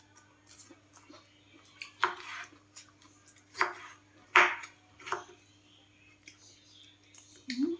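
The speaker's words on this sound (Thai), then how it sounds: "ก่อนอื่นขอหั่นหน่อไม้ไปต้มก่อน" A knife slices bamboo shoots on a board in irregular, sharp chops and clicks over a low steady hum.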